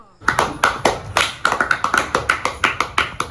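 A baby girl claps her hands in a quick, fairly regular series of about fifteen sharp, close claps, celebrating a first walking step at home.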